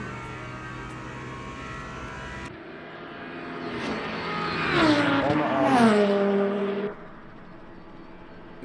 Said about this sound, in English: is throwing that Porsche in through these curves one more time